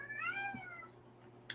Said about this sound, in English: Apologize if you guys hear my cat.